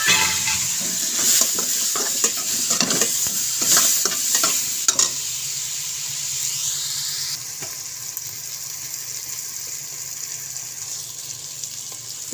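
Bitter gourd is stir-fried with salt, turmeric and red chilli, giving a continuous loud sizzle and bursts of clattering stirring in the opening seconds before it eases into a steadier, quieter hiss.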